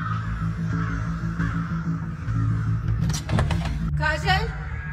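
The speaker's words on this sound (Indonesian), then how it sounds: "mendengar suara burung gagak" Crows caw several times in quick harsh bursts near the end, sounding fairly close, after a low hum and a background with some talk-like sound.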